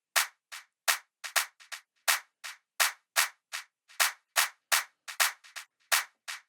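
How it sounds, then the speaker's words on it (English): Drum machine clap sample on a Maschine MK3, high-pass filtered with lows cut, fires in a quick syncopated techno pattern of sharp bright hits, each trailing a short echo, with no other sounds. "I want to cut some of the lows out of the clap itself too. So we'll put a high pass filter on it."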